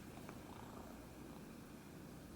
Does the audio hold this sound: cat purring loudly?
yes